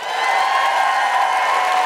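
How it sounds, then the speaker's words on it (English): Audience applause and cheering from a live crowd at an event on women in classical music, a steady wash of clapping with scattered whoops, sustained and fairly loud throughout. "Big round of applause for Rachel Parris."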